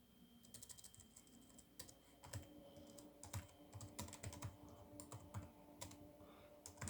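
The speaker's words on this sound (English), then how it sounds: "I'll type in here. I'll type it, right?" Fast, uneven typing on a computer keyboard, close by, with clustered key clacks and occasional heavier strokes over a low room hum; no one speaks.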